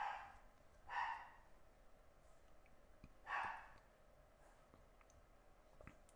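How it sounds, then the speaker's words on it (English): A dog barks twice, faint and somewhat distant, with a few seconds between the muffled barks in an otherwise quiet indoor room. "I'm sure you can hear my dog right now."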